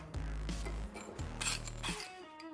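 A spoon scrapes and clinks against a bowl as a steak seasoning rub is mixed, giving a short stretch of close, gritty stirring with no talk.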